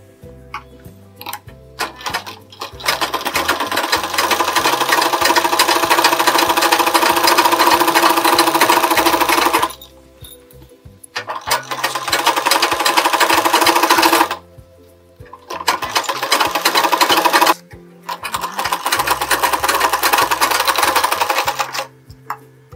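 A domestic sewing machine runs in long continuous bursts while stitching the lining of a blouse, its rapid rhythmic chatter close and loud, with short pauses between runs and no talking.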